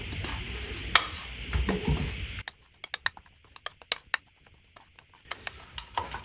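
Spices are stirred and mixed in a pan for a baingan dish, giving a steady scraping rustle with a sharp clink, then a run of separate light taps and scrapes, close and moderately quiet, with no voices.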